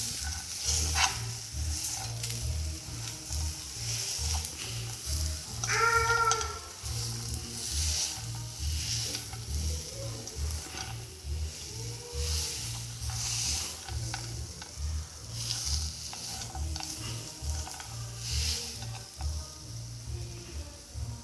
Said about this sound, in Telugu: వేసేసుకొని మొత్తం ఈ ఖర్జూరం అనేది దీనికి పట్టేలాగా మనం కలుపుకుందాం